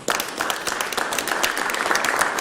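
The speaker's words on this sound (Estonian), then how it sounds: "Tänan, aplausiga." An audience gives continuous, dense applause in a hall, a loud sustained wash of many hands clapping with no talk over it.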